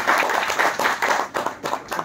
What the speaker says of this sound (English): applause for all our contestants